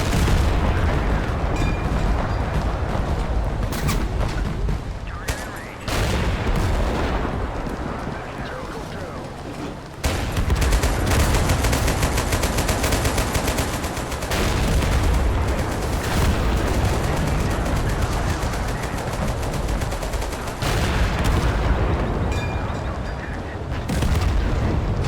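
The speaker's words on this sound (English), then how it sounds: "105mm cannons are absolutely nasty" Heavy 105mm tank cannons from Total Conflict: Resistance boom repeatedly in loud, sharp blasts with brief gaps between them, while someone talks over the shots.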